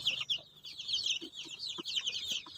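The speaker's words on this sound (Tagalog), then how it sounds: "Ang laki niyan, no? Ang laking sisiw niyan." Young chicks and chickens on a small farm peep and cluck in a continuous high-pitched chorus, fairly close, with soft scattered lower clucks and shuffling underneath.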